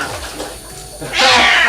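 A cat cries loudly after being dunked in water it hates, its yowls and meows swelling into a sustained, intense wail toward the end of the short burst.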